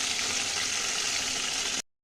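Pabda fish fries in hot oil in a pan, a dense, even, close sizzle that continues without pause before cutting off abruptly near the end.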